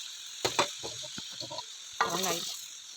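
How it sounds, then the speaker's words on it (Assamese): Spatula scrapes and stirs vegetables in a pan with a steady sizzle underneath, a few sharp clacks then a longer scraping pass. "অকণমান লৰাই দিওঁ ভাজিখন"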